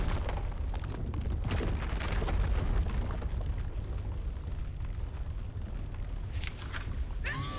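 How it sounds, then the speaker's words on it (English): Heavy, thundering footsteps in the video game Lost Words shake the ground as a continuous loud rumble with booming low impacts, without speech. "Thundering steps shook the earth."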